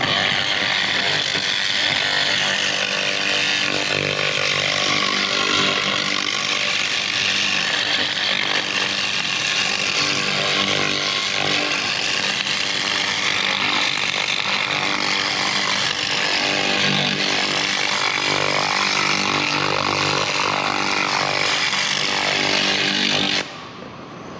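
A high power laser cleaning machine stripping rust from a metal wheel rim, a loud, steady buzzing hiss that runs unbroken close to the microphone and then cuts off abruptly at the end.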